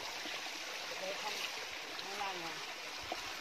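Mountain stream water falling like a natural shower in a forest, a steady broadband rush and trickle that fills the clip, with faint voices underneath.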